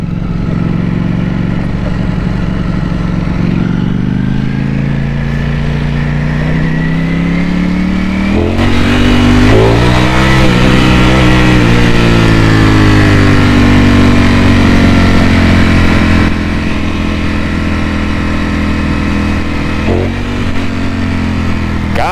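A Ducati Panigale V4S in race mode revs hard up close, its engine note climbing and falling through repeated throttle blips over a steady, loud mechanical roar, with no talking.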